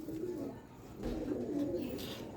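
A Teddy Golden pigeon from a breeder's loft gives soft low cooing that murmurs steadily for a couple of seconds at close range, faint and unaccompanied.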